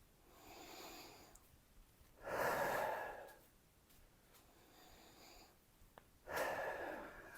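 Heavy breaths during recovery after a leg-strengthening workout: two loud, close exhalations, each after a quieter stretch of softer breathing.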